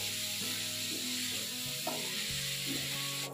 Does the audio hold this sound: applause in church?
no